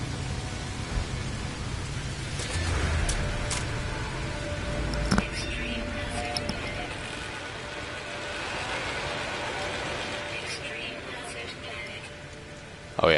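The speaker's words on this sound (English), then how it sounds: "So it's pouring toxic rain." Heavy toxic rain pours steadily on an extreme-weather planet in a space exploration game, a broad hissing wash at moderate loudness with a few faint clicks, continuing throughout without talk.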